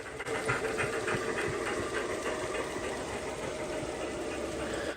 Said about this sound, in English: I was able to catch this logging train, which is pulled by two geared locomotives.